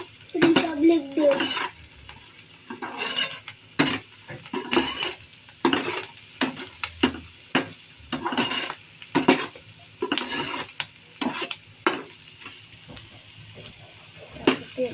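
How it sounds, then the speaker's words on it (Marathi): Onion, capsicum and carrot cooking in oil, stirred in a pan with repeated close scrapes and metallic clinks in an uneven rhythm over a faint sizzle. "कांदा, शिमला मिरची, गाजर शिजवून घ्यायचं तेलात"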